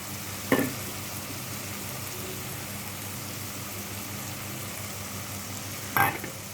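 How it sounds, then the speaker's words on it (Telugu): Vegetable pieces frying in a pan with ginger garlic paste, mint and coriander for Telangana-style bagara rice, a steady soft sizzle throughout with two brief louder clatters of stirring near the start and end. "అన్ని ముక్కలన్నీ ఫ్రై అవుతున్నాయి"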